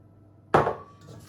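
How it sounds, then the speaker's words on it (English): A single egg cracked against a bowl edge and dropped into creamed cake batter: one sharp, close tap followed by a brief soft settling sound, with nothing else around it. "you can start adding in your eggs one at a time"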